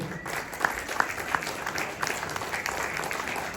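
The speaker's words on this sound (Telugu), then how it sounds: "మీరు just give big round of applause అండి" Audience at a school celebration clapping in a steady patter of many hands, with a few sharper individual claps standing out and a faint murmur beneath.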